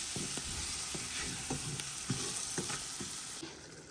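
Thin taro stolons (lati) sizzle steadily as they sauté in a pan after a splash of water is added. Regular scraping stirs cut through the close, continuous frying hiss.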